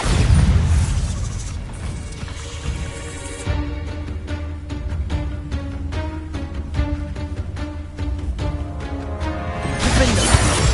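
Bombarda blasting spell explosion in the Hogwarts Legacy video game: a loud, broad roaring blast at the start settles into tonal game music, then another roar swells up near the end.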